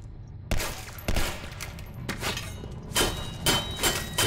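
Video game gunfire in a dark storage area: a few sharp, loud single shots and impacts spaced apart, followed by a cluster of closer rapid hits over low rumbling ambience.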